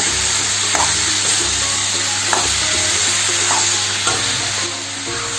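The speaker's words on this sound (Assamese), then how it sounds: "এতিয়া কঁঠাল বইল কৰা কঁঠালখিনি দি দিয়া হৈছে। এইদৰে লৰাই থাকিব লাগিব।" Boiled jackfruit frying in a pan for a jackfruit sabji with chilli powder, a steady loud sizzle broken by periodic scraping stirs of the spatula, close and continuous with no talking.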